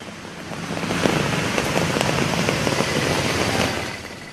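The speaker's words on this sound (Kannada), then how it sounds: "ಇಲ್ಲೆಲ್ಲ ಜೋರು ಮಳೆ ಆಗಿದೆ." Heavy morning rain drums across Bangalore streets, a loud, dense roar of downpour that swells slightly and holds steady, with faint traffic rumble underneath and no voices.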